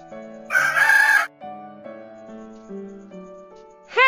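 A rooster crows once in a loud, close burst over soft background music, followed by a quiet stretch and a brief higher call at the very end.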